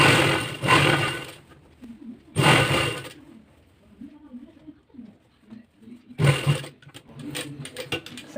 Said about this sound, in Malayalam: സൂചി കുത്തി തിരിച്ച് അതേപടി അടിച്ചെടുക്കുക